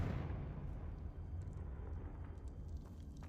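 A Confringo spell explodes in Hogwarts Legacy, a sudden deep boom that opens loud and decays into a rumbling wash with faint crackles over about three seconds, no voices.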